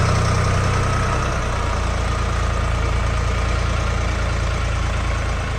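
A Jinma 244 tractor with a cab idles close by. Its engine throbs in a steady, low, even rumble that continues without a break, and no voices are heard over it.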